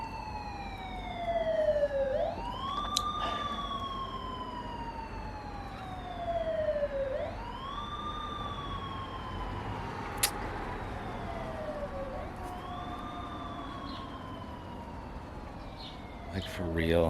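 A wailing emergency vehicle siren rises and falls in long, repeating sweeps, steady and fairly loud for the whole stretch, with a couple of sharp clicks along the way.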